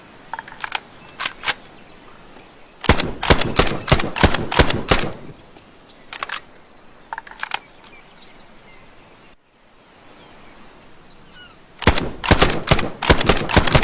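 A homemade carbine rifle fires in rapid bursts of sharp, snappy cracks, several volleys separated by short quiet pauses, close and loud.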